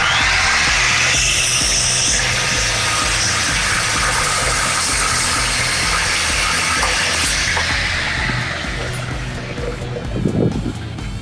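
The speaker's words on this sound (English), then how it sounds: "for the larger cuts you're doing, you're looking for a 10 1/4 inch. It's called the saw squatch." A Skilsaw 10 1/4 inch SawSquatch circular saw makes a long, loud, continuous cut in one pass, its high whining rip holding steady before winding down near the end.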